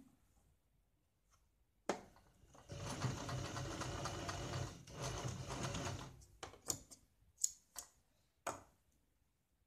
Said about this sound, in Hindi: इसके ऊपर हम डबल सिलाई लगाते हैं